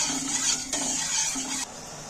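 Sugar syrup boiling in a pot for a Janmashtami palm-fruit sweet, stirred steadily, giving a continuous bubbling, scraping hiss with soft clinks of the spoon against the pot, close and moderately loud, no talking.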